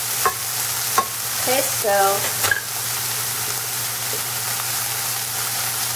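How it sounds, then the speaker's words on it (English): Thawed frozen chopped spinach sautés in a little butter, giving a close, steady sizzle with a few spoon stirs and clinks early on; a brief spoken remark sits over the frying. "saute just means that you're cooking something in a little bit of butter"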